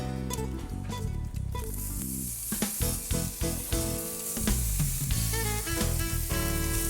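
Steady hiss and crackle of chicken sizzling on a hot grill, loud and close, with occasional clatter of utensils over the frying noise.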